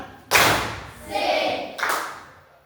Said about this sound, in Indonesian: Satu kali tepuk tangan.